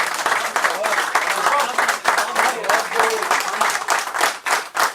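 An audience at a storytelling session claps in a lively, uneven round, with voices mixed in beneath the clapping.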